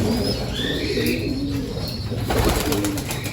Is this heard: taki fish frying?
no